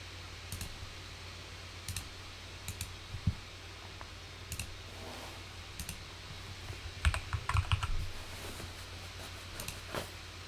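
A computer mouse being clicked during game testing gives scattered sharp, quiet clicks over a faint room hum, isolated at first and then a quick cluster of several taps before single clicks resume.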